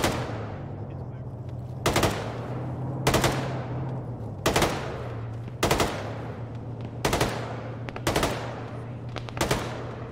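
Bursts of gunfire ring out in a military video game at roughly regular intervals, about seven loud, sharp volleys over a low steady engine drone, with no talking over them.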